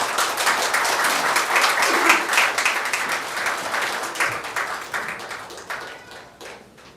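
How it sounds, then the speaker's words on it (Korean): Warm applause from an audience at a Korean political party joint campaign rally in Wonju, greeting a women's committee candidate as she takes the stage. Dense, steady clapping fills the first few seconds, then thins and fades toward the end. "여러분 뜨거운 박수로 맞아주시기 바랍니다."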